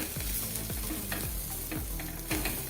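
Vegetables sautéed and stirred in masala for Maharashtrian masala bhat, a steady close sizzle of frying with repeated scraping stirs of a spoon against the pan, no talk.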